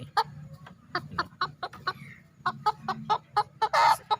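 Tan Chau chickens cluck in a busy run of short, sharp calls at close range, with a low hum underneath and a louder, rough squawk near the end.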